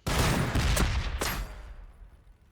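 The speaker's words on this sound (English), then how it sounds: "Open fire!" A volley of gunfire from a Warhammer siege battle between Blood Angels and Orks, a dense burst of overlapping loud shots with sharp cracks that rumble and fade into quiet after about a second and a half.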